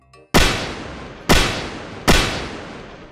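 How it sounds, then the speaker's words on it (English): A robber fires three loud gunshots in Roblox Berry Avenue, each a sharp crack with a fading tail, spaced roughly a second apart after a short soft lead-in. "Oh my god, he's shooting. Do you hear him shooting?"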